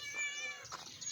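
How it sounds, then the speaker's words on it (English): Domestic cat meowing indoors, a couple of soft, drawn-out calls at close range that rise and fall over a faint background hum, with no one talking. "There's the cat."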